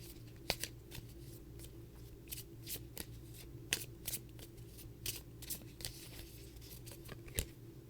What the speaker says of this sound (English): Let me pull a little card here for you.